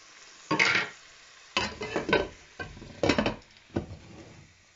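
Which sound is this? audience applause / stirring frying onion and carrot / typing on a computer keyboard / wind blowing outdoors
stirring frying onion and carrot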